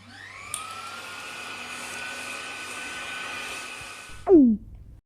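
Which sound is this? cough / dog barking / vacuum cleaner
vacuum cleaner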